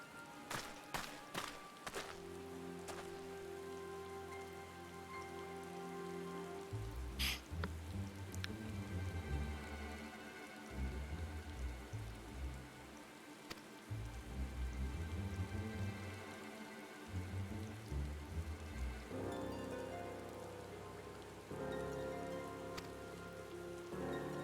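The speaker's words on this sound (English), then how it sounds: "Oh, look, I'm having a rest in the rain," Steady rain falls in the Final Fantasy XIV game world, a continuous patter filling the scene while in-game music plays over it and a few sharp sound effects stand out.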